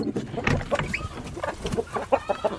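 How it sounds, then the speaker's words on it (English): A hen clucks repeatedly while laying an egg in a flock of Silkie and bantam chickens, the clucks close and loud in uneven bursts with other birds calling around. "I hear somebody laying an egg."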